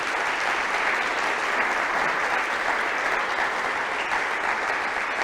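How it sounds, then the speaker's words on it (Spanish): A church congregation applauds together, a dense, even wash of clapping that holds steady throughout at moderate loudness, with no speech over it. "Vamos a darle un aplauso a Cristo."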